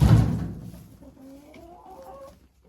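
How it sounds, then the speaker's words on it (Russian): Hens cluck and murmur softly in a coop after a loud bump at the start, a few drawn-out clucking calls rising and falling, close and otherwise quiet. "Вот это куры."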